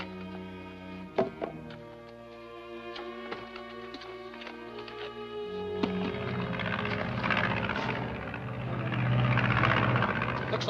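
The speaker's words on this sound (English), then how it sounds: "Looks like one of Fowler's planes" A propeller airplane drones in an old serial soundtrack, its engine hum swelling louder as it passes overhead, with a couple of sharp thumps early on.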